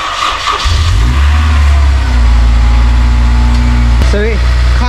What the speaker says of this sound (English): let me just quickly show you guys what the car sounds like now so you can hear what I'm trying to get rid of